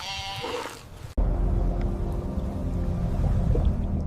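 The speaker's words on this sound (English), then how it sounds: "Giant white Savannah wild sheep." A giant white wild sheep gives a single wavering bleat close by, followed by a low rumbling outdoor background.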